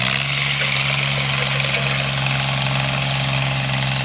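A Ford 1710 garden tractor's engine runs steadily while disking a field, a loud, constant mid-pitched drone with a low hum and no talking.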